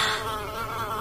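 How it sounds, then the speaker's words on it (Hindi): A bee buzzes close beside a listener's ear as an animated-story sound effect, a steady, fairly loud insect drone lasting about a second with no voices over it. "मधुमक्खी बार बार आकर नताशा के कान के पास आकर गुनगुन की आवाज कर रही थी।"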